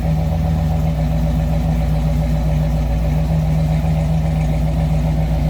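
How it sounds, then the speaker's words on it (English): A 1946 Chevrolet pickup street rod with a Chevy engine idles steadily, heard from behind with a deep, even exhaust rumble and no talk. "Slip around to the back so you hear it run. A little rumble coming out of that Chevy engine."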